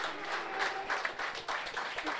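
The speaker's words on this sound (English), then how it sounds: "A round of applause." Audience applause at a 50th anniversary celebration for a graduating medical class, a dense wash of clapping from a room of people, steady and moderately loud with a voice speaking over it.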